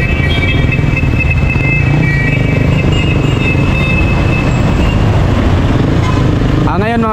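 Motorcycle riding through traffic, its engine droning loud and steady with road and wind rumble throughout, and a rising whine near the end.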